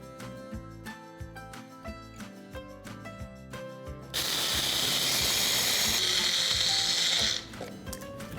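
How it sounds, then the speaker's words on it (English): A mixer grinder blitzes spices and dried chilies for molaga podi, a loud, steady whirring burst lasting about three seconds amid rhythmic mechanical clatter and background music. "we are going to grind this so it will all get mixed well"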